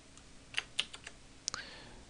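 A computer keyboard is tapped in a short burst of quiet, close key clicks while cutting and pasting code, a few separate strokes followed by a slightly louder pair.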